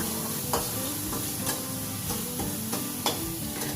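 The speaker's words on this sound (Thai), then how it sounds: "พอเนื้อสัตว์สุกแล้วก็ใส่ใบกระเพราลงไปเลยค่ะ แล้วก็ กลับไปกลับมาอีกสองสามครั้งค่ะ" Holy basil leaves and meat sizzle in a hot pan while a spatula scrapes and tosses them in several quick, rhythmic strokes, up close with no talking.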